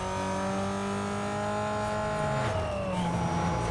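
A Toyota Supra in the racing game Need for Speed Most Wanted revs hard under steady acceleration, a loud continuous engine whine climbing and shifting pitch with faint tire noise alongside.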